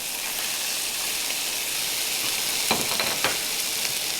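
Bean sprouts frying in a pan over low heat for a Chinese stir-fry of liver and garlic chives, giving a steady close sizzle with a few brief stirring scrapes near the end.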